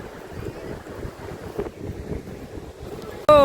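Sea waves wash against the shore at Gopnath on the Gujarat coast, with steady wind buffeting the microphone throughout and a sudden loud noise breaking in at the very end.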